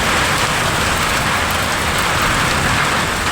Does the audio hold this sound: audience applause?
no